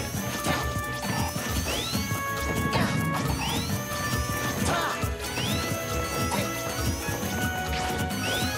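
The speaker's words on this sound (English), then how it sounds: "I think I'm going to need to find some good music to get the sound of the spin dashes out of my ears." Repeated spin dashes in a Super Smash Bros tournament match give revving, rising whooshes mixed with crashing hits, all over a busy, continuous wash of game sound.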